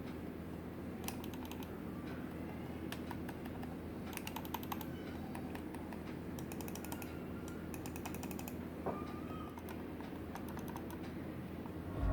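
An old computer mouse and a silent Logitech M221 wireless mouse are clicked together, producing clusters of quick, sharp clicks in irregular bursts with pauses between them, close up against a steady low background hum.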